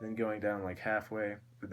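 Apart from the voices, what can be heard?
No everyday noises stand out.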